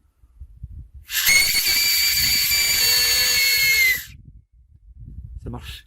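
An acorn cap whistle blown between the thumbs gives one loud, piercing, sustained shriek lasting about three seconds, with a slight pitch wobble, framed by quiet rustling before and after.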